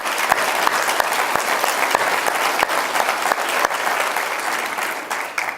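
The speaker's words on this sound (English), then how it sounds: "please join me in another round of applause for Larry" An audience at a chamber of commerce annual dinner applauds Larry Shank, a sustained wave of clapping that fills the room and tapers slightly at the end.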